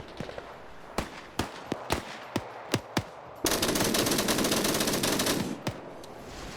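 An MG3 machine gun firing in a PvP video game match, first a series of spaced single cracks, then a loud continuous rapid burst of about two seconds, followed by a few more scattered shots, with no voices.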